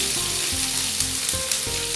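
Onions added to a hot pan of chickpeas fry with a steady, close sizzle, broken by soft stirring and clinking knocks.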